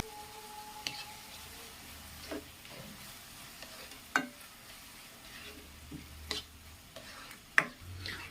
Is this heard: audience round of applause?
no